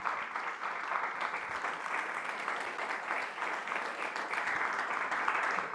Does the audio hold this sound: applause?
yes